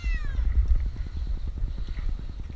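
A cat stuck up a tree gives a brief, faint meow at the start, followed by a quiet, rhythmic pulsing rumble in the background.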